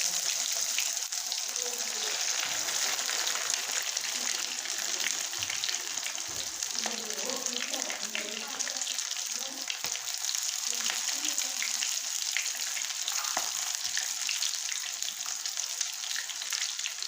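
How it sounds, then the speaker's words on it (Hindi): Chicken drumsticks frying in hot oil, a steady, close, continuous bright sizzle with crackling pops that holds for the whole stretch, with no talk over it. "दो 3 मिनट के लिए एक साइड से फ्राई करेंगे गोल्डन ब्राउन होने तक।"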